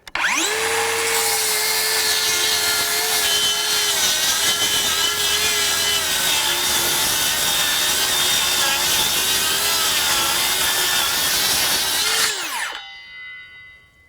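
A DEWALT FlexVolt DCS577 7-1/4 inch circular saw rips through wood in one loud, sustained cut of about twelve seconds, its high whine steady under load and then dropping away as the blade spins down at the end.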